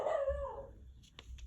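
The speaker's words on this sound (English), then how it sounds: "Sorry about the dog." A dog gives a single drawn-out howling bark, close and loud, followed by a couple of faint short yips in a quiet indoor room.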